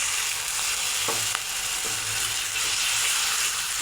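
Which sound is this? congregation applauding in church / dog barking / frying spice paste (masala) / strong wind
frying spice paste (masala)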